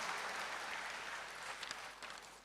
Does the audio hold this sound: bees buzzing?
no